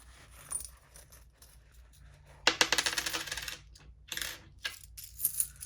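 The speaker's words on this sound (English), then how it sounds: "I do have some coins in here, so we'll go ahead and empty that out." Loose coins poured out of a wallet, landing in a few bright metallic clattering bursts with short pauses between them, close and fairly loud.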